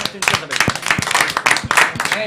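A live audience at a late-night French pitch show claps in quick, uneven bursts of applause, fairly close and loud, mixed with people talking over it.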